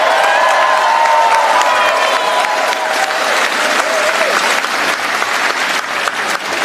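A large, excited crowd at an outdoor political campaign rally applauds and cheers in a loud, steady wash of clapping with whistles and shouts, close and continuous throughout.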